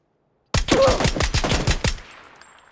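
A rapid burst of about ten VSS rifle shots in PUBG on PS4, fired in quick succession, loud and close, followed by a short fading echo.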